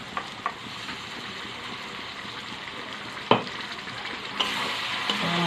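Tomato paste and spices frying and being stirred in a pan for chicken with capsicum, a steady sizzle with occasional scrapes and clacks of the spoon against the pan, no talking.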